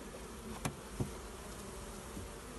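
Honeybees in a very small mating nucleus hive with a brood frame and a stores frame give a steady, faint hum throughout, with two brief knocks or handling sounds near the start.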